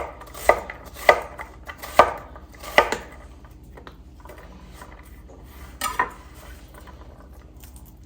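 Knife chopping through an onion on a cutting board, with about five crisp, sharp chops at a steady pace early on, then a pause before one or two more cuts near the end.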